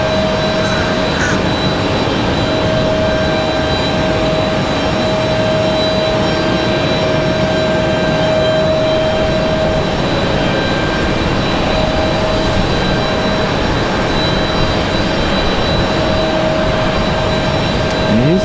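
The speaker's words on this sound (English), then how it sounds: "There they go, starting the engines on the triple there." Boeing 777 jet engines spool up at RDU airport, a steady loud roar with a sustained high whine that holds throughout, heard from nearby.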